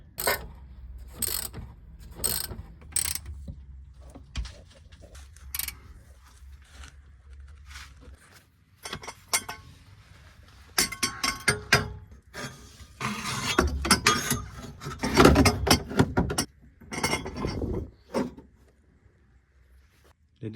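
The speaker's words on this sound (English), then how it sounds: "let's bolt the diff down." A ratchet tightens bolts holding the differential on a BMW E46 Compact, with sharp clicking bursts and metallic clanks in irregular groups, close and moderately loud, with quiet gaps between runs.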